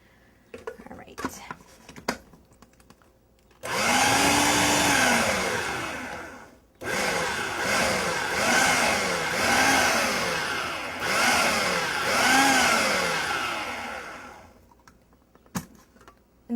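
A food processor cuts butter into flour in sharp, loud motorized bursts, a long whir followed by several pulsing runs with brief gaps between them, and quiet shuffling before and after.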